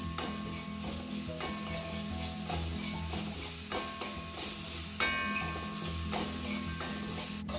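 Coconut roasting in a pan for Malabar sambar gets stirred, so a low frying sizzle carries regular scraping and clicking strokes roughly once a second, moderately quiet and with no talk.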